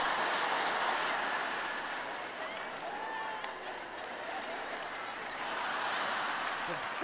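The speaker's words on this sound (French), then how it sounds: "L'applaudissement tarde à venir." Audience applause in a lecture hall, a soft, steady patter of many hands clapping that continues evenly for several seconds at a moderate distance.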